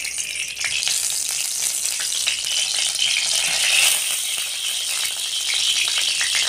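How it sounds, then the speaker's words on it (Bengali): Mustard oil heating in a hot wok, a steady bright sizzle with faint crackles and light rattling, close and continuous with no talking. "গরম হয়ে গেছে, কড়াই সর্ষের তেল দিয়ে দেব।"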